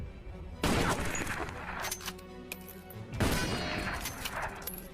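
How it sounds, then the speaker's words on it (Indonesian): Sniper rifle shots in a film scene: two loud, sharp bursts of gunfire with crashing impacts, each followed by ringing debris and reverberation, separated by a brief lull. "Zarin yang merasa ditantang muridnya lalu menembak semua target dengan jitu."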